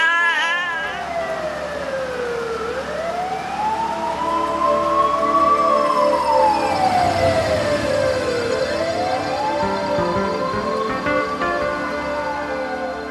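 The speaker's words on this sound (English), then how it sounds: "It's an ambulance." A wailing ambulance siren sweeps slowly up and down in pitch, steady and fairly loud, continuing throughout with no talking.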